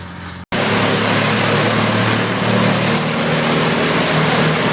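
A Vermeer WC2300XL tree chipper running at the edge of a wooded area near a suburban home, a loud, steady engine roar with a grinding hum that starts abruptly after a brief silence and holds alone.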